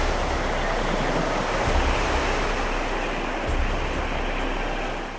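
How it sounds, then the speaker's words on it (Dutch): Tsunami water surging over a seawall and flowing inland in Ofunato, a dense continuous rushing roar, loud and steady with slight swells, with no voices. "Het water gaat door de zeewering en stroomt landinwaarts."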